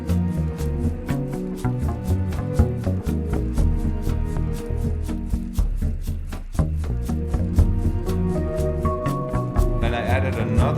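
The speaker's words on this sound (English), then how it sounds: "Now the bass percussion" Bass percussion in a music track, a dense steady beat of repeated low hits layered under sustained tones, loud and continuous with no talking.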